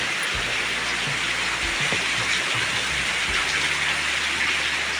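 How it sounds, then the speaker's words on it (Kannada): A sudden heavy downpour roars as a dense, constant hiss that stays loud and even from start to finish, with a low rumble underneath. "ನೋಡಿ ಫ್ರೆಂಡ್ಸ್, ಎಷ್ಟು ಜೋರಾಗಿ ಬರ್ತಿದೆ ಮಳೆ."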